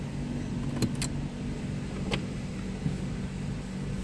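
A car's power window slides open from inside the parked vehicle, a steady low motor whir with a few faint clicks, close and moderately quiet.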